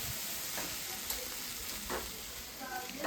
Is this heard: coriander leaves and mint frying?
yes